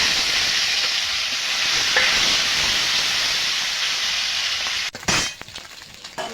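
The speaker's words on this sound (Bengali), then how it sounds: "বাকি মাছগুলো ভেজে নেব।" Small puti fish sizzling steadily in hot oil in a wok, a dense continuous hiss with a brief clatter near the end, no voices.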